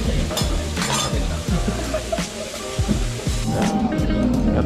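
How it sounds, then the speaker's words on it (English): Bacon sizzling on a hot okonomiyaki griddle at a Hiroshima eatery gives a steady crackling hiss, with metal spatulas clanking and scraping close by. "Getting the bacon on."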